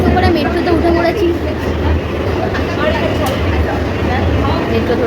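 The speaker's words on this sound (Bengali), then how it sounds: "মেট্রো ধরে এখন চলে যাচ্ছি আমরা।" A moving Kolkata metro train on a crowded festival day gives a steady, loud rumble and rattle from inside the carriage, with passengers murmuring underneath throughout.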